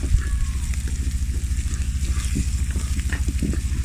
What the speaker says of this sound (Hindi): अब ज़ीरा जाएगा 1 चम्मच सफ़ेद ज़ीरा साबुत, इसको भून लेंगे